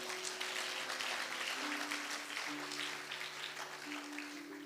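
An audience in a church breaks into steady, sustained applause mixed with cheering, a dense continuous wash of clapping that fills the room throughout.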